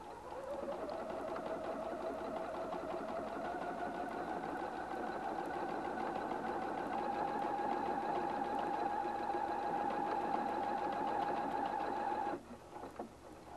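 A Husqvarna Viking Platinum 770 sewing machine stitches fabric in one steady continuous run, its motor hum rising slightly in pitch, then stopping abruptly near the end.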